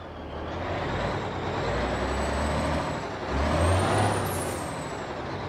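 A rear-engine Scania-powered Jumbus 340 bus in a bus simulator game idles and rumbles steadily, ending with a sharp hissing release from the air brakes near the end.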